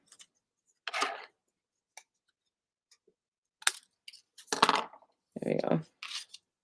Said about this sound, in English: I might even trim this up a little bit more.